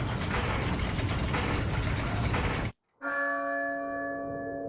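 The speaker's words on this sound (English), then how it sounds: "Oh, la campana. Es hora de rezar." A church bell rings in Resident Evil 4, its single clear struck tone sustaining and slowly decaying after a dense, noisy mechanical rumble stops abruptly, with no talking over it.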